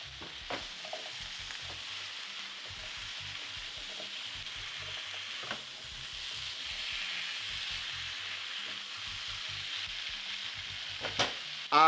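Peppers, carrots and sweet potatoes sizzle steadily in a pan with onions and tomatoes, a continuous frying hiss broken by scattered stirring clicks and scrapes, close and moderately loud.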